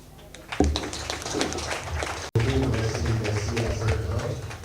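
An evening gala audience in Cotonou keeps up sustained applause, a dense wash of clapping with a brief cut partway through, then continuing at full strength.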